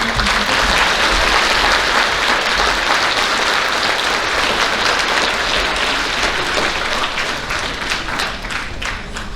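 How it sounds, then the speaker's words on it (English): Sustained, loud applause from an elementary school awards audience honoring award-winning schoolchildren, dense clapping filling the room for nearly ten seconds and tapering slightly near the end, with no talk over it. "Please give these kids a round of applause"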